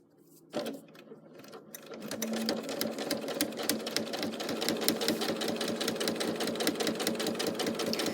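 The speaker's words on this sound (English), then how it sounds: "we'll take it back to the machine and we will sew along here to insert our plastic" A sewing machine with a quarter-inch foot stitches along the edge of fabric while sewing a zippy pouch. A rapid, steady mechanical chatter starts after a brief quiet and runs continuously at close range, with no talking.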